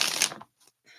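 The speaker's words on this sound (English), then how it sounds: "I heard 2 more shuffles on the deck," A quick riffle of a deck of tarot cards being shuffled, a brief crisp flutter followed by a couple of faint taps.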